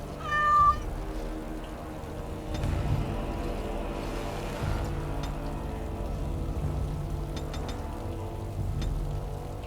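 A cat in the Dragon Age Origins video game gives one clear, close meow at the start, followed by a soft steady ambience with faint patter like rain.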